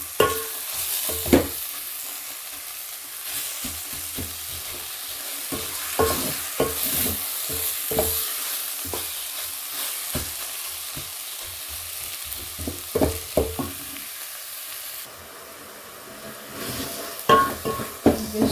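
Vegetables fry in a pan for leftover stew pilau, a soft steady sizzle under repeated clacks and scrapes of a spoon stirring against the metal, close and intermittent.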